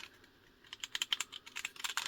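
Light, fast keystrokes on the mechanical keyboard of an N-GO ZX Spectrum Next clone fitted with silver Kailh switches, sounding as a faint, irregular run of crisp clicks close to the microphone.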